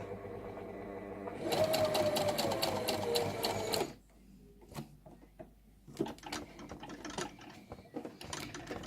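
A domestic sewing machine stitching fabric for a Tilda doll, a close steady motorized whir with rapid needle clatter that stops partway, followed by sparse clicks and handling sounds as the fabric is adjusted.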